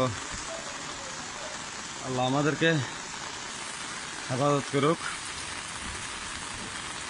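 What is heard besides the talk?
heavy rain falling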